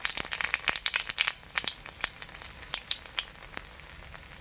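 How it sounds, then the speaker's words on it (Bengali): Nigella seeds crackle and pop in hot oil in a wok, a quiet close run of sharp sputtering snaps and crackles, quick and uneven. "এই যে এবার একটু কালো জিরে দিয়ে দিচ্ছি।"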